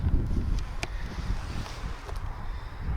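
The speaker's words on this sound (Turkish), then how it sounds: "Sürekli olarak değişken bir rüzgar var." Blustery wind buffets the microphone in uneven low rumbling gusts, with a few brief clicks and no voices.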